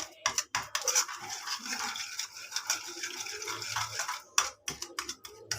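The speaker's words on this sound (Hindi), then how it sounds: "1 चम्मच चीनी और जो गर्म पानी है थोड़ा सा वो इसमें ऐड कर देंगे और उसको अच्छी तरह से मिक्स कर लेंगे।" A spoon stirs a teaspoon of sugar into a little warm water for pizza dough, making soft, uneven scraping and clinking against the container. Sharper taps of the spoon stand out near the start and toward the end, and there is no talk.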